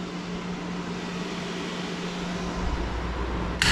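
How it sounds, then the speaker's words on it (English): An electric fan on an RV oil cooler runs with a steady, even whir and hum, a constant drone at moderate level that grows slightly louder toward the end, ending in a brief click. "there's the oil fan"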